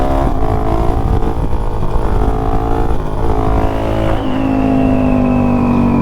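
Suzuki DRZ400 dirt bike engine revving hard and steady in second gear as the front wheel lifts, a loud, close, continuous roar whose pitch climbs and then settles into a sustained drone.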